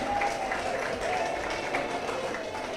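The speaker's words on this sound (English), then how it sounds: "let us give a round of applause" Crowd applause fills a Market Day with a Difference 2018 gathering in Roseau, a steady, dense wash of clapping that holds at an even level throughout with a faint tonal hum beneath it.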